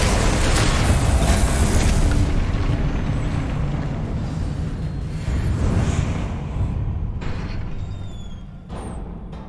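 Booming spell blasts of the Confringo fire curse in the wizarding game Hogwarts Legacy form a heavy, continuous rumble with crackling bursts, loud and close, fading toward the end into a few thin whooshing tones.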